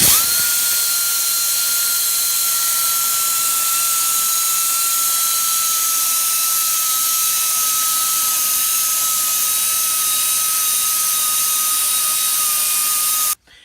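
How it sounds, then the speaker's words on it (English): A high-speed abrasive wheel cleans an engine gasket surface on a 3.5L EcoBoost Ford F-150, a continuous loud whining hiss with a steady high tone that runs unbroken before cutting off abruptly at the end. "I feel that high-speed wheel almost polishes the surface"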